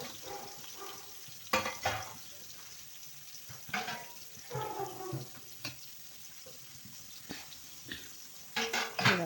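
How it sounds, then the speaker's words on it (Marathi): Onion dropped into hot oil in a kadhai, a soft sizzle with scattered stirring scrapes and a few louder clatters, close but fairly quiet, with faint background voices. "आता मी कांदा टाकून घेते कढईत."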